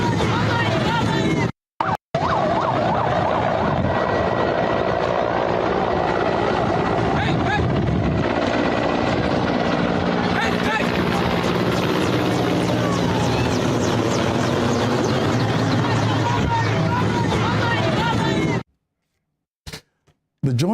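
Helicopter believed to be carrying a president thunders overhead above a crowd of youths, its loud steady rotor drone running almost unbroken with murmuring voices and shouts mixed underneath before it cuts away near the end.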